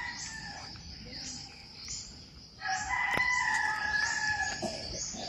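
A rooster crowing near a rural house at morning, several drawn-out cock-a-doodle-doo calls with one nearer and louder, other fowl and crickets faint in the background.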